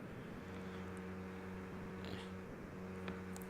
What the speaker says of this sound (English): Uh-oh, there's a kitty. I hear it.